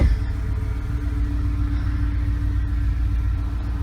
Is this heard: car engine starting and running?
yes